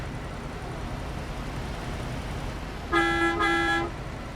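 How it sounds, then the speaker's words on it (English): A truck horn honks in Euro Truck Simulator 2, two loud steady blasts about a second long together, sounding over a constant engine and road rumble. "Come on, honk back."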